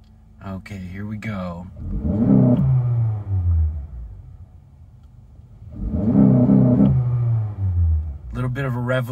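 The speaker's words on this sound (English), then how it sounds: "A little bit of a rev limiter, but it sounds strong nonetheless." A 2017 Honda Accord Sport Special Edition engine revs hard in two long bursts, climbing and bouncing off the limiter, with short bits of talk before and after.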